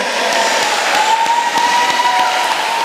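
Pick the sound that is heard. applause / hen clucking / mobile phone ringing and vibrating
applause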